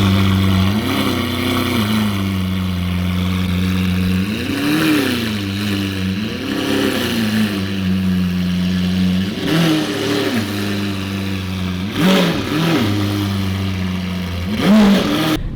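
A Lamborghini Huracan engine, stated as a V12, drones at a loud, close idle and is blipped into a series of repeated revs, each a short rising and falling surge over the steady rumble.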